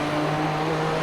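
Nissan GTP ZX-T race car in iRacing on the Nürburgring Nordschleife, its engine at full throttle as a steady, loud, continuous drone with no talk.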